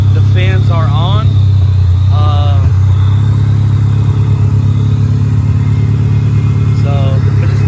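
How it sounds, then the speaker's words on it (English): A car engine idles steadily while fixes for a fuel leak and overheating are underway, a constant low rumble running throughout with the cooling fans on, as someone talks over it. "So I'm gonna just let it idle a little bit more."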